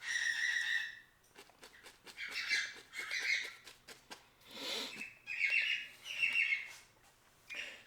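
Pet birds squawk and call loudly in repeated bursts, sharp shrill cries alternating with brief pauses, close to the microphone and with no talking.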